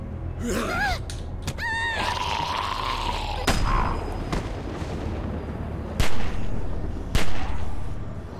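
Several sharp gunshots crack out at intervals amid video game sound effects and whooshing tones from The Walking Dead: Season 2, with a couple of heavier booms near the end.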